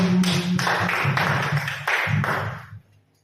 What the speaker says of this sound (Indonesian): Coba tepuk tangan untuk kita semua